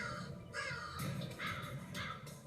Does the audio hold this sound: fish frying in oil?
no